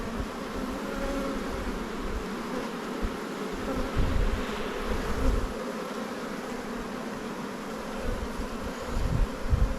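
Honey bees buzz steadily inside an opened, very large spring colony hive during inspection, a dense, continuous droning swarm close by with slight swells in loudness and no talking.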